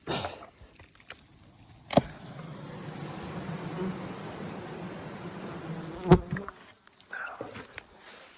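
Dense, steady buzzing of many bees fills the clip at moderate level, punctuated by a couple of sharp knocks or taps.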